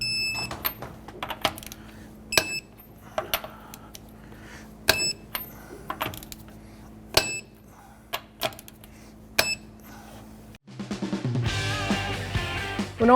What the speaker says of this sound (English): Let's go ahead and torque our lug nuts down to 95 foot-pounds.